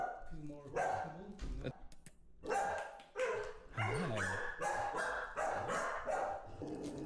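A puppy yips and barks in short bursts over several seconds, close and fairly loud, mixed with people talking in a Star Wars: The Old Republic live stream.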